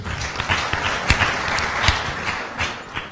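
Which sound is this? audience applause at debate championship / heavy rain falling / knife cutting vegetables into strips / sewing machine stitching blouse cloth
audience applause at debate championship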